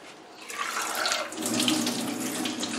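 Water from an orchid pot's reservoir pours out steadily into a sink or basin, a continuous close splashing stream holding fairly even for about three seconds with no talking.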